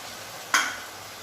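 Green chillies hit hot oil in a pan with a single sudden hissing sizzle that flares loud, then fades over about half a second against a quiet background.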